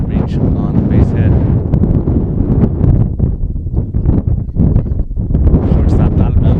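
Wind gusting across an outdoor softball field during a high school game, a steady loud rush and buffeting against the microphone that persists throughout, with faint voices in the background.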